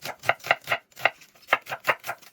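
A knife slices half an onion into thin strips on a cutting board, about nine crisp, evenly spaced chops in quick rhythm, close and clear with no talk.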